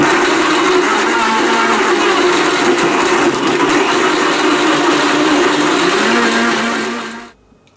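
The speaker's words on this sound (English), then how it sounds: "Blend on high for 30 seconds" A blender running on high, whipping up a smoothie with blueberry yogurt: a loud, continuous motor whir with a churning, grinding texture that holds steady for about seven seconds before spinning down to silence.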